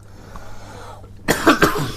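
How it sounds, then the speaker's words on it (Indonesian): A single person coughs abruptly two or three times in quick succession, loud and close, after a stretch of quiet room tone. "Batuk lagi."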